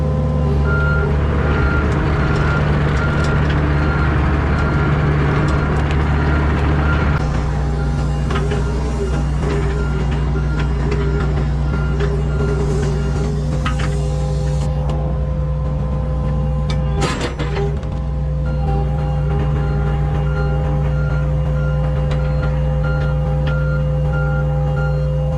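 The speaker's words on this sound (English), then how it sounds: "we're gonna load this big boy excavator up on the car trailer so we can return it in the morning" A big excavator is loaded onto a car trailer while its reversing alarm beeps steadily over a loud, constant diesel engine rumble that eases slightly after the first few seconds.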